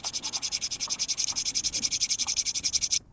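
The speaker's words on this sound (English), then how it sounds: "So I'm now going to get a file out of a bag or some emery cloth and clean these up." A metal file scrapes back and forth over a grimy nut on a starter motor in a steady run of about twenty quick rasping strokes, close and fairly loud, stopping abruptly near the end.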